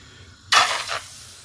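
Water-covered keema naan dough slapped onto a hot pan, a sudden loud burst of sizzling that flares for half a second and then fades quickly.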